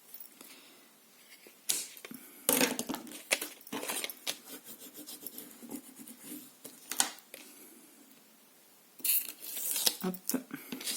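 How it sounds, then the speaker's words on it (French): Scissors snip through paper while a greeting card is being made, giving a series of close, crisp cutting and rustling sounds in short bursts with quiet pauses between. "Ciseaux."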